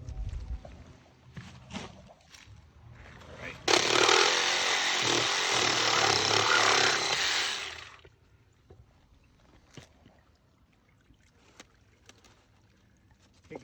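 A power saw cuts through a mainline pipe at a marked point inside the slip, a loud steady roar lasting about four seconds, with quieter handling noises before and after.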